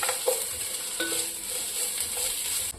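Cinnamon, star anise and cloves being stirred in a hot pan for chicken biryani, a steady bright sizzle with light scraping and clinks of the spoon, close and unbroken, no talking.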